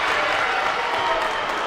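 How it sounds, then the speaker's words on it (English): A basketball crowd at a Harding vs. Southeastern Oklahoma State game roars and claps in a dense, steady wash of cheering and applause that fills the arena without a break. "the crowd is as ignited as I've heard them in a while"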